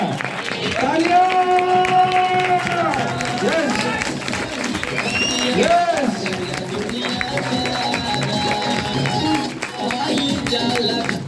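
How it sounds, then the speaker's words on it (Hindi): An audience at a DXN program in Bhagwanpur, UP, India applauds as Om Prakash Sir and Kesh Kumari Madam are welcomed to the stage, sustained crowd clapping under loud music and hubbub. "जोरदार तालियां"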